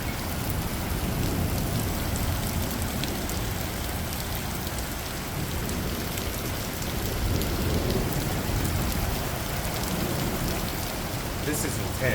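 Heavy outdoor rain pours down in a constant roaring hiss of drops striking surfaces, loud and unbroken, with a low rumbling undertone throughout.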